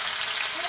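Duck meat is tipped into a hot pan on a wood-fired clay stove and bursts into a loud, dense sizzle that holds steady through the brief moment.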